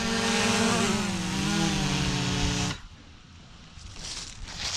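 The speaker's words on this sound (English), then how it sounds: "20-inch auger bit, and this machine's a 260 John Deere, older" Older John Deere 260 machine running a 20-inch auger bit, a loud steady engine drone with shifting pitch that cuts off abruptly, leaving quieter outdoor background.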